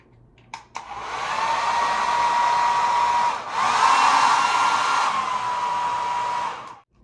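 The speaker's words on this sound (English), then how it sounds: "This would probably be a good time to test if this hairdryer works." A hotel hair dryer switches on with a click and blows with a loud, steady whoosh and whine, briefly dips as the setting changes, then runs strongly again before clicking off.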